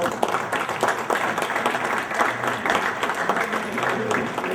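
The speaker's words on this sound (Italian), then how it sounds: "vorrei anche fare un saluto, un applauso a Luciano" A crowd applauding steadily at a museum anniversary event, dense clapping filling the whole stretch at moderate loudness with a murmur of voices underneath.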